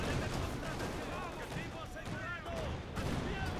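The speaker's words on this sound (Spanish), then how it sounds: "Se está cayendo de todo. Los cohetes ahora" Rockets and artillery shells land in the Company of Heroes 2 battle, with repeated distant booms and gunfire crackling under steady battle noise, while whistling sounds streak overhead.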